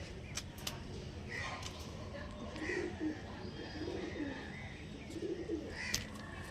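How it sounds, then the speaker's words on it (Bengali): Soft, low coos from domestic house pigeons repeat a few times against a steady background hum, with faint chirps and brief clicks scattered through. "দেখো আমার ঘরের পায়রা সব"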